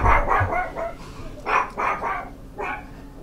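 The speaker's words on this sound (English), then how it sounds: "Sorry, my doge is doing the barking." A dog gives several close, loud barks in quick bursts, with short gaps between the clusters.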